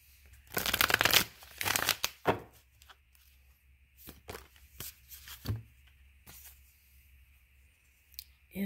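Tarot cards are shuffled in several close, brisk riffling bursts separated by soft taps and quiet pauses, with no talking.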